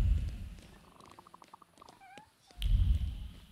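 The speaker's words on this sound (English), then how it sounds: "Kitty." A cat in The Thaumaturge role-playing game meows a few times, soft, high and wavering, between louder stretches of low rumbling game ambience, with no talking.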